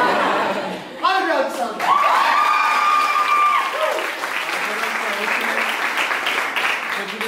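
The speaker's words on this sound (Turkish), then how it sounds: "alkış." A dance-event audience claps and cheers loudly and continuously, a dense wash of applause with scattered shouts and a few whoops rising above it, steady from start to finish.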